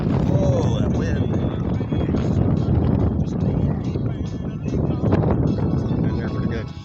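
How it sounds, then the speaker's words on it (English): Strong wind buffets the microphone in a steady loud roar while a solar-powered boat docks on a lake, with faint speech mixed into the constant rumble. "Oh, that wind."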